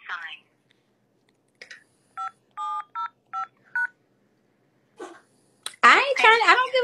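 Phone keypad DTMF tones enter a code as five clean, evenly spaced beeps after a brief voice prompt, followed by a person speaking loudly close to the phone.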